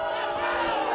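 A wrestling crowd at a WL Brawl event in a continuous roar of voices, dense and fairly loud throughout the short moment, with no single voice standing out.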